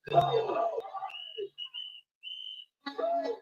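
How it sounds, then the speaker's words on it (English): Community alarm whistles warning of ICE agents nearby, several sharp high whistle blasts of varying length in an outdoor street scene, with a murmur of voices and crowd noise before and after. "The whistles are a new community tactic to alert people that ICE agents are in the area."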